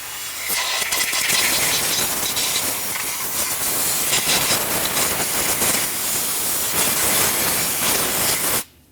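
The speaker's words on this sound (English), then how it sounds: "we'll use some compressed air in the area, just in case there's any debris" A steady, loud blast of compressed air hisses continuously around the fuel pump area of a 2012-2016 Subaru Impreza, clearing debris, then cuts off abruptly at the end.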